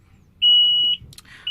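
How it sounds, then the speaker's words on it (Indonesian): The fatigue alarm on a Komatsu HD465-7 dump truck's instrument panel gives one loud, steady high-pitched electronic tone for about half a second. A few short chirps and the tone starting again follow. "Kemudian ini ada switch untuk fatigue alarm bro. Kalau kita pencet mati alarmnya dia bro."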